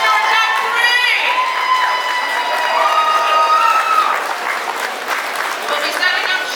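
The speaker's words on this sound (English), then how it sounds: "let's give all these ladies a big round of applause and congratulations to our top 3" Applause at a pin-up pageant in Gleason, Wisconsin, as the top three finalists are announced: a loud, lively round of clapping mixed with whoops, cheers and shouting voices from the crowd.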